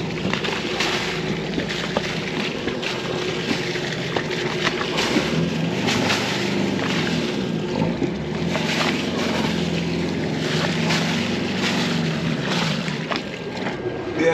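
A sailboat's inboard engine idles in neutral at anchor, a steady low throbbing drone joined by wind and lapping water, continuous and fairly close, with no voices over it.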